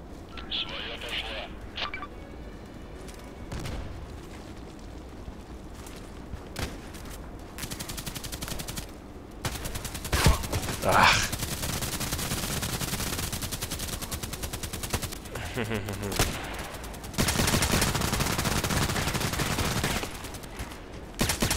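Rapid bursts of KelTec RFB Carbine gunfire in the shooter game Contract Wars, sharp and loud, with clusters of shots repeating across the stretch and someone talking between and over them.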